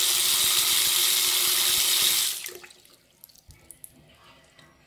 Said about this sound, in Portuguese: Vou ligar a torneira aqui e vou fazer o teste para vocês